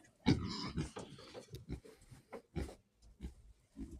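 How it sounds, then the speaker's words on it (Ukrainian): A pig grazing outdoors near a rural kitchen gives short, scattered grunts and snorts close by, quiet and irregular, with brief pauses between them. "Свинка наша пасеться ось біля мене, тут, біля кухні."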